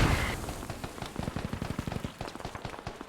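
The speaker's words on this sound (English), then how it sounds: "now the mortars are finally here" Mortar fire in a multiplayer war video game: a quick run of many small thumping impacts and cracks at moderate distance, fairly faint, rattling in an irregular cluster.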